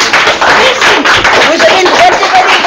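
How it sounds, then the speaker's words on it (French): A small group of students clap briefly for one another, a dense patter of hands in a school room with voices mixed in. "voilà, applaudissez-vous."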